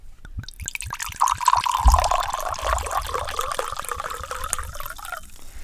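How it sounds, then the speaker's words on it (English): White wine poured for a second time into a glass, a steady close liquid glug and trickle that swells after an opening drip, runs evenly for several seconds and then tapers off. "I never know which one's better, the first one or the second pour"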